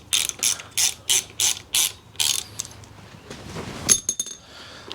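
A ratchet clicks in several quick, crisp bursts while the handlebar riser bolts on a 1992 Evolution Sportster are tightened, followed by a few lighter metallic clinks and taps.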